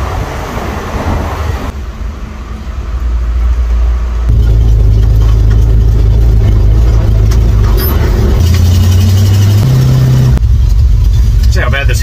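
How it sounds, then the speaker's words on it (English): A car with a poorly adjusted clutch and transmission trouble strains through a hill start: a loud, steady low engine drone that steps up in pitch several times as the revs climb and settle. "See how bad this hill start is."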